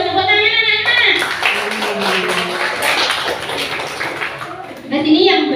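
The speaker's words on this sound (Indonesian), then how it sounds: "Tepuk tangan anak-anak." Schoolchildren clap their hands together in a classroom lesson, a dense burst of claps lasting several seconds, with children's voices and an adult voice heard over and after it.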